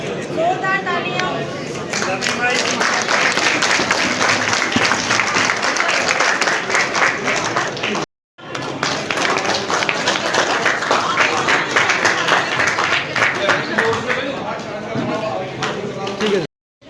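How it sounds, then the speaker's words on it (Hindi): A large audience applauds loudly at a drug de-addiction awareness program in RS Pura, the dense clapping holding steady for about eight seconds, breaking off briefly, then surging again before stopping abruptly. "जोरदार तालियां।"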